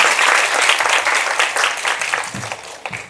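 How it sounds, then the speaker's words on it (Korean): Loud, close applause breaks out from the audience at the opening ceremony of an education forum, a thick burst of many hands clapping that slowly thins out toward the end. "큰 박수 부탁드립니다"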